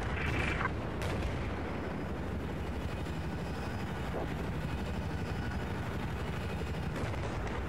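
Tank guns fire in a multiplayer tank video game as a continuous loud, rumbling barrage of booms and rattling bursts, dense and close.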